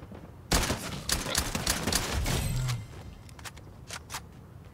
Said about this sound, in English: We have gunfire in front, southwest.